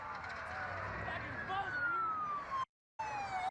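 A police car siren wails in a sliding, falling tone, fairly faint, with a brief dropout near the end before it resumes.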